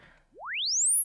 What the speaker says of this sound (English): The infamous Virtual Riot 1-bar charge.